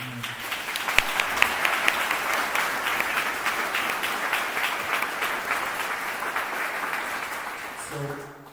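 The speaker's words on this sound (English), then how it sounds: "If you could give them a round of applause." An audience at a gala gives a round of applause, steady dense clapping that starts after a short bit of talk, holds at moderate loudness for several seconds, then fades as a voice returns at the end.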